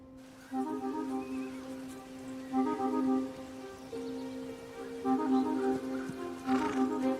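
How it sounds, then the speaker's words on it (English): A horse's presence in a period drama setting, with low steady tonal sounds and faint snorting or whinny-like rises over a quiet outdoor background, no clear speech. "Horse looks fast."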